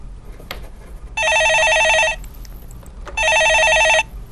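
A telephone rings on a Korean stock-market call-in radio show: two long electronic trilling bursts separated by a pause, loud and close over a low hum, with no talking.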